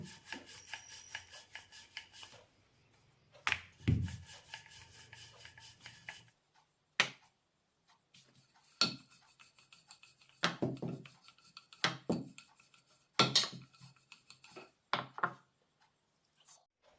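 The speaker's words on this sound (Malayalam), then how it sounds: "ഇനി ഇത് പരത്തിയെടുക്കാം എത്ര നൈസാക്കാൻ പറ്റുമോ അത്രയും നൈസാക്കി പരത്തിയെടുക്കണം" Rumali roti dough is rolled out very thin on a surface, giving intermittent soft rubbing and rasping strokes, with a few louder thumps between short quiet pauses and no talking.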